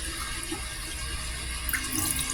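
Tap water runs steadily over a hand as a paint brush is washed with dish soap, a close, continuous splashing hiss at even volume, with a brief brighter spatter near the end.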